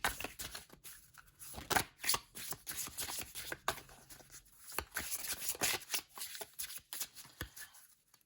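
Sturdy oracle cards are shuffled by hand, with quick riffling flutters and soft slaps in repeated bursts, quiet and close, with no speech.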